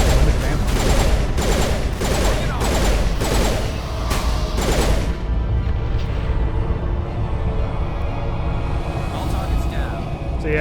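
Rapid bursts of gunfire from the Mass Effect video game, a dense rattling volley in the first five seconds that gives way to lower mechanical rumble and scattered shots; a voice may be faintly mixed in.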